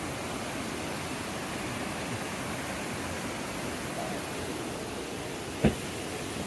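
A steady, dense roar of falling water from Devil's Bridge Waterfall fills the scene without a break, with one brief knock near the end.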